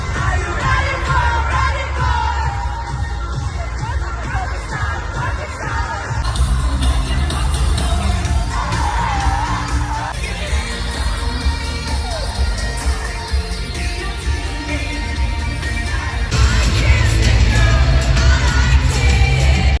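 A large crowd at an arena concert roars, cheers and yells over loud amplified music, a dense continuous wall of sound that swells louder toward the end.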